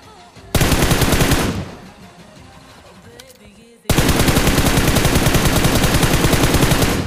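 Two long bursts of rapid automatic gunfire in a battle royale video game, loud and close, separated by a quieter pause with faint background noise.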